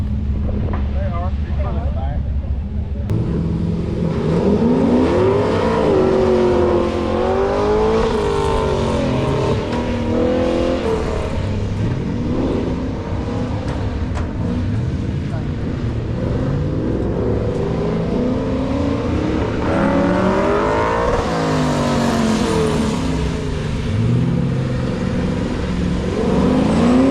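A Camaro and a square-body truck run an autocross course at Beech Bend Raceway Park, engines revving and rising through gear changes for the full stretch, loud and close, with wind buffeting the microphone and a voice talking over it.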